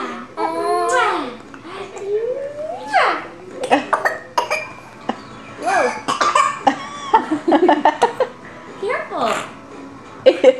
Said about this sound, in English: Big cough, buddy.